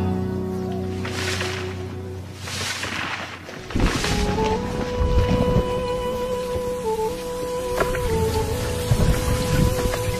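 A monsoon rainstorm in India hisses as steady heavy rain, with booming rumbles and a constant wash of falling water behind low music.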